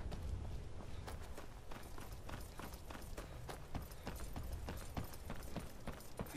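Rapid, steady clip-clop of horse hooves at a run in the video game Skyrim Special Edition, continuous and close, with a low rumbling bed underneath and no talking.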